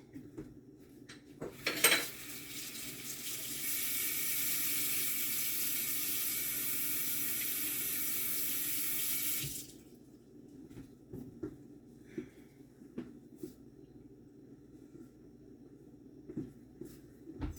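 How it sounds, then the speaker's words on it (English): Hands washed under a running kitchen sink tap while pie crust is being made: a loud, steady rush of water lasts several seconds and then stops, with light clattering before and after. "let me wash my hands"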